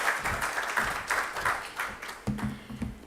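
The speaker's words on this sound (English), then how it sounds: "Another warm applause for Nyokabi" An audience at the Safaricom AI Experts Conference 2024 claps in soft, uneven bursts, quiet and somewhat distant, swelling and fading several times.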